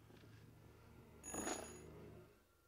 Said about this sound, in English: Answer the goddamn phone!